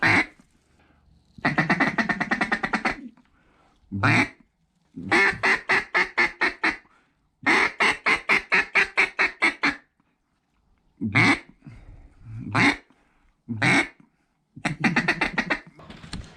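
Ducks over flooded corn quack in loud bursts of rapid repeated calls, some long rattling series and some single quacks, separated by brief silences; a pintail is among them, heard close.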